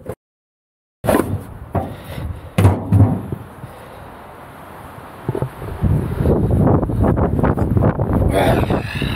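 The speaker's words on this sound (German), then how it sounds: "So, der Wind geht auch wieder brutal." Strong wind buffets outdoors in a valley, roaring in gusts against the microphone after a brief silence, with rustling and knocking sounds and some talking mixed in.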